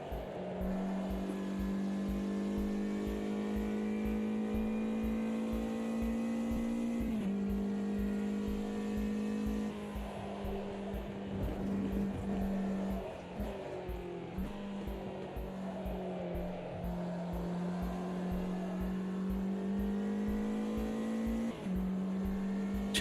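GT5 race cars with no ABS or traction control lap Alton Park in a sim racing game, their engines droning loudly and continuously, the pitch climbing and dropping sharply at each gear shift, with faint tire noise underneath.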